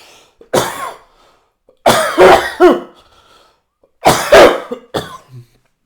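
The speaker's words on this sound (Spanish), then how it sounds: "Ahora voy a toser." Three forceful coughs spaced a second or two apart, each a harsh burst with a rasping tail, close and loud against silence.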